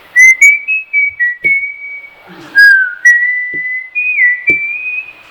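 A person whistles a slow melody of held, gliding notes, clear and close, with short pauses and a few soft clicks between phrases.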